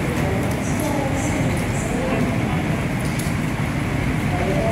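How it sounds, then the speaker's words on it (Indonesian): Argo Merbabu passenger train waiting at platform 3 of an Indonesian railway station, a steady dense rumble of idling locomotive and station ambience, continuous and fairly loud, with faint voices mixed in. "sekarang di jalur 3 ini kereta api Argo Merbabu ya, yang akan berangkat sekitar jam 1:30 nanti"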